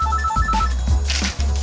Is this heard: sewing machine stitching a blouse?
no